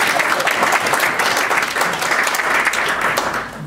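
An audience at a Grumman talk by astronaut Winston Scott applauds, a dense, steady wash of many hands clapping at full strength, fading slightly near the end.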